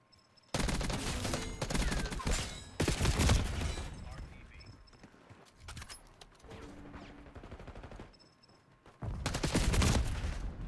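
Shotgun blasts and automatic gunfire in Call of Duty Black Ops 6 multiplayer, loud bursts in several clusters separated by quieter gaps, with a player talking between them.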